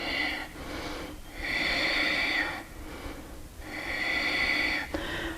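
Slow, deep breaths drawn in and let out during a yoga pose, close and soft, with three long airy cycles and no talking.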